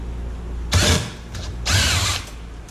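A power tool backs a small bolt out of a Traxxas Wide Maxx rear end on a radio-controlled car, two short, loud whirring bursts close up, separated by a brief pause.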